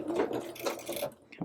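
A sewing machine runs in a short burst while locking the stitches at the end of a doll dress seam, then stops briefly before a small final whir.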